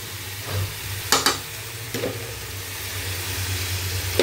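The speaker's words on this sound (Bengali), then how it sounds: "তো এখন আমি একটু নাড়া দিয়ে তারপরে লবণটা দিয়ে দিই।" Onions frying in a pan for bitter gourd stir-fry, with a steady soft sizzle and a few sharp scraping clicks of a spoon stirring them, all close and without talk.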